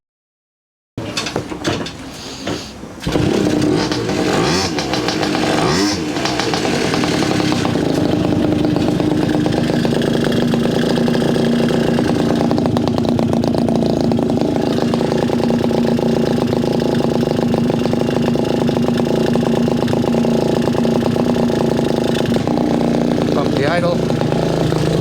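Garelli SSXL moped two-stroke engine starting with a few sputters, then running and idling loudly and steadily at close range for over twenty seconds.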